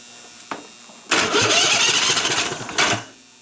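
An old Briggs & Stratton Vanguard 16HP engine with fuel pump trouble makes a short cranking sound, then catches and runs loudly and close for about two seconds. One more surge follows before it dies away.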